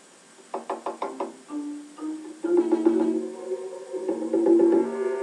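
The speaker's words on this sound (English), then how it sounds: "For some people, the drum is used to communicate messages by making different sounds like this." A hand drum is struck in a quick run of sharp knocks, then gives way to mixed tonal sounds, fairly close and moderately loud, as if sending a message through changing strokes.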